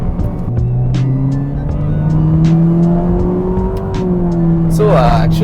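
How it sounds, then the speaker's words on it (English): A modified Honda Fit GP4 Hybrid RS in sports mode, shifted with paddles, its engine and exhaust droning steadily as the pitch slowly rises under acceleration, heard from inside the cabin with a rising tone near the end. "So actually, like the sound of the engine, like the exhaust, is not too loud."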